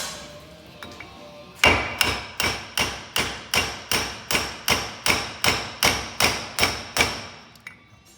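A hammer strikes a drivetrain part near the transfer case on a Jeep Gladiator, landing about thirteen loud, evenly spaced metallic blows in a steady rhythm, close up, with no talking.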